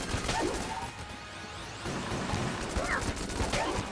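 Rapid volleys of gunfire from the Heck Blaster in the game Enter the Gungeon crackle almost continuously, dense and loud, with whooshing projectile swishes and small impact bursts layered through the barrage.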